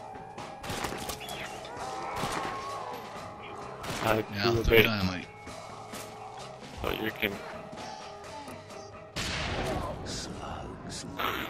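Gunfire and explosions from the zombie survival mode of Red Dead Redemption: Undead Nightmare, with scattered shots and blasts bursting at irregular intervals while a player talks over the game sound.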